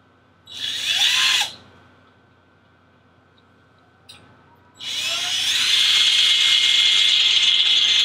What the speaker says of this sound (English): So I'm just gonna drill small hole up